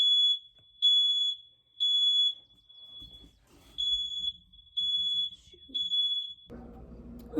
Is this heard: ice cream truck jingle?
no